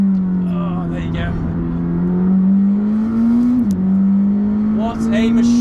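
A McLaren 620R GT4 road car holds a steady, loud engine drone through a fast lap, its pitch rising gradually and dipping briefly before climbing again, with wind and road noise.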